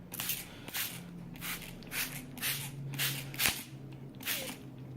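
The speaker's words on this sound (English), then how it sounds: "I am going to take my spray bottle, and I'm just going to spray the shirt inside the cloud." Spray bottle misting bleach onto a T-shirt, about eight short, sharp hissing squirts in a steady rhythm, close and fairly quiet.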